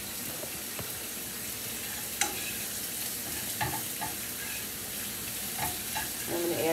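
Garlic sautés in a hot pan with a steady close sizzle, broken by a few sharp scrapes and clinks as it is stirred.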